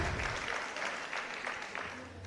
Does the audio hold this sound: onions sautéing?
no